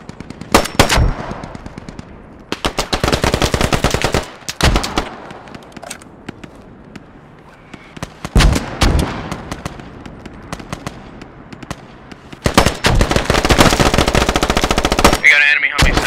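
Automatic machine-gun fire in the Squad video game, loud repeated bursts separated by short pauses, with scattered single shots and distant gunfire between bursts during a full match.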